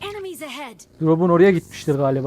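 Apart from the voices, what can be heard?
No everyday noises stand out.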